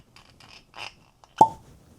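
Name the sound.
cork popping out of a rum bottle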